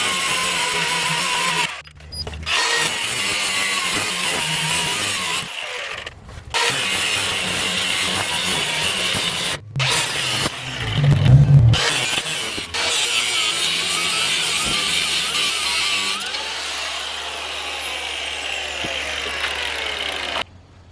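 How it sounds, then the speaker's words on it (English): Excess threads are cut off the rear U-bolts on a Ford F350 Crew Cab dually truck during a lift block install: a loud, harsh, sustained cutting noise that stops and restarts in several bursts, close by and with no talk. "I'm going to go ahead and cut off some of the extra threads here and clean that up"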